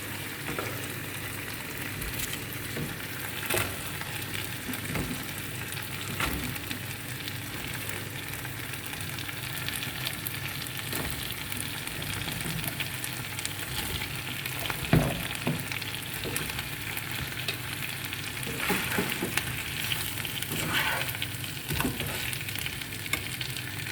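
Winter mixed vegetables and shrimp fry in a pan with a steady, dense sizzle that continues for the whole stretch. Occasional stirring scrapes and pops rise above the hiss, and no one speaks.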